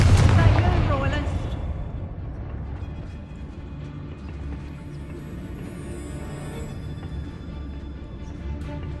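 A Confringo fire spell explodes in the Hogwarts Legacy game, a heavy boom at the start that rumbles and decays into a long, low ringing tail with ambient game sound.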